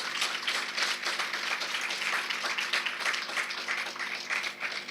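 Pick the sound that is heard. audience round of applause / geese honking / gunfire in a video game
audience round of applause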